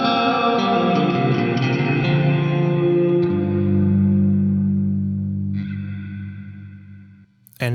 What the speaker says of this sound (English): So here's how it sounds with some pre-delay dialed in.